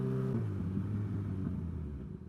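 A car engine rumbles nearby and shifts pitch as it begins slowly backing up, a steady low drone in the rain with no voices heard.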